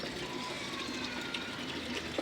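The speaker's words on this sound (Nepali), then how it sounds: "पानी थाप्नु" Water runs steadily into a container at a public water spout in Kathmandu, a faint continuous trickling and splashing with soft background noise throughout.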